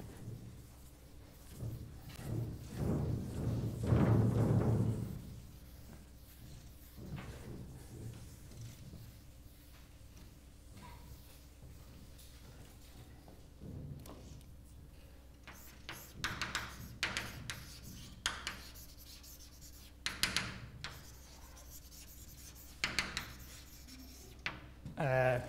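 Writing is erased from a lecture board, a broad scrubbing rub that swells loudest early on and is followed by scattered knocks and handling sounds in a quiet room.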